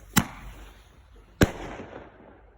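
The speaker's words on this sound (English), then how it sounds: "That's just lighting one right now. It's called the cherry bomb." A cherry bomb firework goes off outdoors with two sharp, loud bangs about a second apart, each followed by a short fading rumble.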